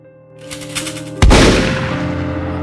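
A single .275 rifle shot fired at a tiger in the Kumaon hills cracks out loud and sudden after a soft musical passage, then trails off in a long, fading roar.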